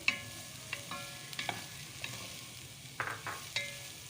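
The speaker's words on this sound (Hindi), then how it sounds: "अब हम इसको अच्छे से फ्राई करते हैं।" Half-boiled mixed vegetables, including peas, fry in a pan for kababs, with a low steady sizzle broken by scraping stirs and several bright metallic clinks of the spoon.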